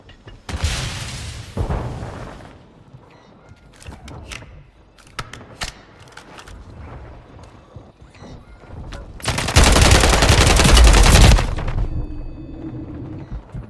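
Video game gunfire comes in loud, sharp bursts: a couple of quick volleys early, scattered single shots in the middle, then a long sustained automatic burst near the end, with no voices.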